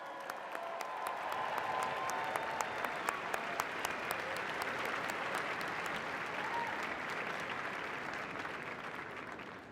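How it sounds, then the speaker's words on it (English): Audience at a university convocation ceremony applauding, a sustained wash of dense clapping from a large crowd that holds steady for about ten seconds with sharp individual claps standing out. "Let's give them all a round of applause."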